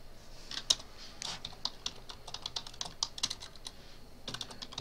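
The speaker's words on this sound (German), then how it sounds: "Tippen, wenn die Aufnahme läuft." Rapid, uneven keystrokes on a computer keyboard, close and fairly quiet, with clusters of sharper clacks and brief pauses between bursts of typing; no voices.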